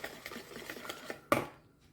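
Cupcake batter being mixed in a bowl, a run of soft utensil scrapes and taps against the bowl, then one sharper clink near the end before it quiets.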